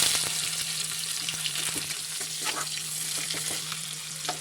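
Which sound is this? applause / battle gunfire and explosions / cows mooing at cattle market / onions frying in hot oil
onions frying in hot oil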